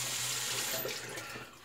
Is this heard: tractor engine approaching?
no